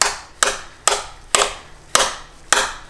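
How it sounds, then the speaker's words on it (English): A hammer taps a socket down onto a spark plug on a Lexus IS250/IS350, six light, evenly spaced metallic knocks with short decays, heard alone. "I'm gonna take a hammer. I'm gonna hammer this in lightly."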